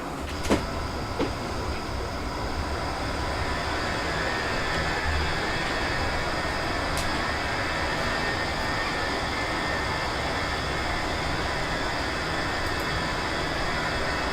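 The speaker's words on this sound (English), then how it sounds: "It's little A319 here." Airbus A319 jet in Microsoft Flight Simulator, a steady broadband engine roar with a high whine, continuous and fairly loud throughout with a few faint clicks, no talking.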